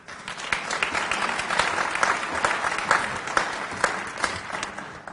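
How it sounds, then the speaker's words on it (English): An audience at a Rhode Island business meeting claps for the chair of the Committee on Economic Development, a dense steady round of applause from many hands with a few sharper individual claps standing out. "I got applause, my God."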